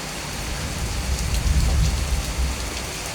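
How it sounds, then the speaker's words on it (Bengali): Heavy rain pouring outdoors during a storm, a dense continuous hiss with low rumbling swells, fairly loud and steady with no talk. "কত জোরে বৃষ্টি হচ্ছে।"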